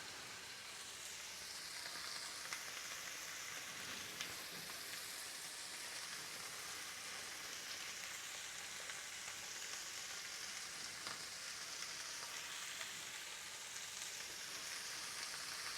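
Protein frying in a hot pan for a brunch bowl, a steady, soft sizzle with fine crackling pops throughout, close and unbroken, with no talking.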